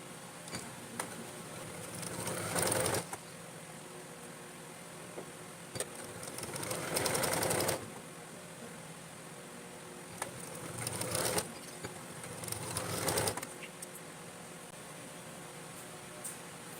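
A sewing machine stitches double-layer fabric for a namaz chadar, running in several short bursts of whirring separated by quieter pauses.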